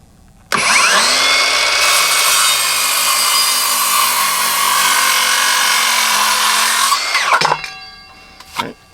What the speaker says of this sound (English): So let's do a quick cut with the circular saw.